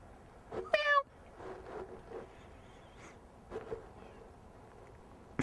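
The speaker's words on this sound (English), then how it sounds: "Ooh, there's a cat." A cat outdoors in a yard gives one short, clear meow early on, followed by quiet background with faint rustles.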